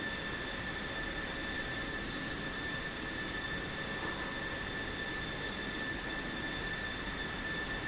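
An F-16 jet engine spinning up in the DCS World flight simulator produces a steady, loud broadband roar. Two sustained high whine tones sit on top of it and hold constant throughout, with no talk.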